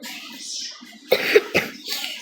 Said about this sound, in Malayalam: എന്തുവാണ് ചുമ മാറാത്ത?